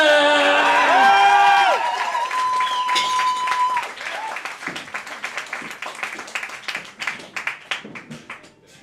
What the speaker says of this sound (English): Please welcome to the stage with a massive round of applause, Mr. Spliff Richard!